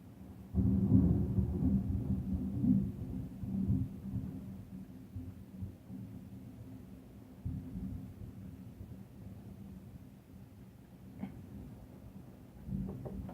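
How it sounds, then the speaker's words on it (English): Low, rolling thunder rumbles through an evening thunderstorm with a heavy downpour, long deep swells rising and fading over steady noise, with no talking. "it's thunderstorming."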